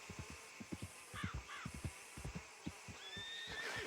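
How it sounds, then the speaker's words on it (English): Horse neighing in the video game Red Dead Redemption 2, with repeated whinny calls over a steady stream of hoof clip-clops and thumps, moderately near with game ambience throughout. "Our horse is on the way."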